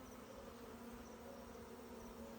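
Bees cluster at the entrance of a hive inside a tree trunk, giving off a faint, steady buzzing hum with no break. No one speaks.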